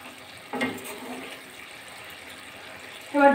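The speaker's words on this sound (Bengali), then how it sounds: "আর একটু জল দেবো।" Water poured briefly into a pan of okra jhal, a short soft splash and trickle at moderate distance amid quiet kitchen background.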